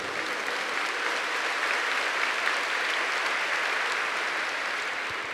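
A church congregation applauds steadily throughout, a dense, sustained wash of clapping from many hands without a break.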